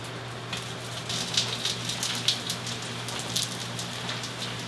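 Water flicked into hot oil in a frying pan sizzles with a steady close hiss and scattered sharp crackles and spits, while a vegan Chinese BBQ pork dish is being prepared.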